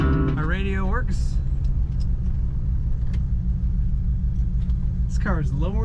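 A running 1964 Chevrolet Impala 2-door hardtop, lowered on airbags with a 4-speed, rumbles with a steady low engine idle close by while a voice talks over it, and short warbling tones rise at the start and end.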